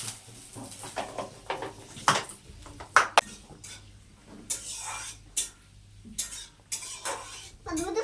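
Whole spices, including cumin, mace, cardamom, cloves and bay leaf, fry in a pan with a faint sizzle, broken by irregular scrapes and clinks of a spoon stirring against the metal.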